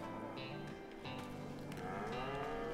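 Cows in an arched cow shed in a farming video game low repeatedly with several overlapping, drawn-out moos against a steady ambient hum.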